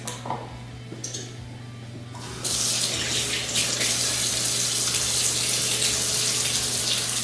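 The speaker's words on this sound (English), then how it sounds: "our first thing is we're going to wash our hands." A kitchen tap runs while hands are washed: a softer trickle first, then the flow opens into a loud, steady gush of splashing water over a faint background hum.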